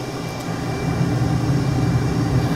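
A steady, low jet engine blast roar in Microsoft Flight Simulator 2020 during carrier landing training, dense and constant, rising slightly in loudness after the first second with no voices.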